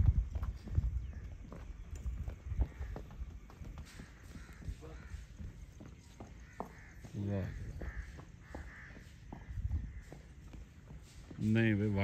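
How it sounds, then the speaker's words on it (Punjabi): A Sodagar horse, a breed prized for its gait, walks with steady, rhythmic hoof clip-clops close by. People talk throughout, crows caw in the background, and there is louder vocal noise near the end. "ਸੌਦਾਗਰ ਘੋੜਾ ਜਿਸ ਚੀਜ਼ ਦੇ ਵਿੱਚ ਫੇਮਸ ਹੈ ਜੀ, ਚਾਲ ਹੈ ਉਹਦੀ"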